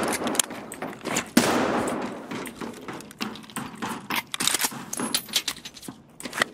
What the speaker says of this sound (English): I gotta unjam my gun real quick.